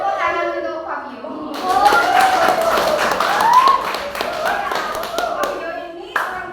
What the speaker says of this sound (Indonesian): Tepuk tangan untuk Fabio